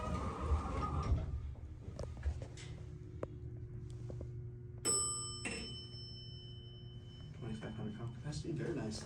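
A Dover elevator with modernized fixtures sounds a single bright bell chime partway through, its ringing tones lingering and decaying over a quiet hum of the car, with talk before and after.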